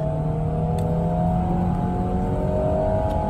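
An Alpine A110 runs on the wet Phillip Island circuit, a steady, sustained engine drone with a constant pitch and no talk over it.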